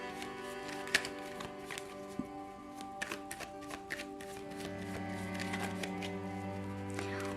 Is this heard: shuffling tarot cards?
yes